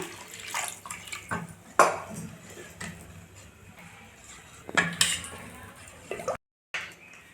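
Wet, thick wheat dosa batter being stirred and slapped in a bowl, with occasional clinks of a utensil against the sides; no talking.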